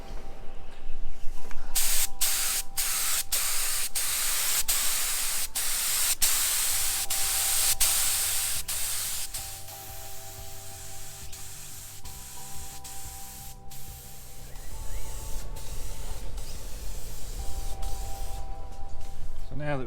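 An automotive spray gun lays down base coat on a car roof during rust repair bodywork, a steady close hiss that runs continuously with brief pauses between passes, no talk over it.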